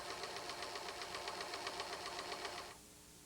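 Kenmore 16633 serger overlock machine stitching knitted fabric with differential feed set, a fast rapid mechanical chatter running steadily close up and fairly quiet for under three seconds, then stopping abruptly into near silence.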